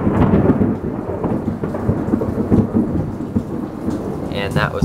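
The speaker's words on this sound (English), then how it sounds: "And that was a big bolt of thunder." Heavy rain hisses steadily on surfaces while thunder rumbles deep and continuous throughout, a loud outdoor storm with no voices.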